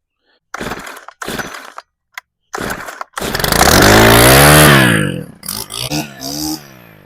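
A Stihl bed redefiner cutting into garden soil: several short loud bursts as it starts and catches, then a sustained roaring engine with rising and falling pitch before it drops to choppy idling bursts.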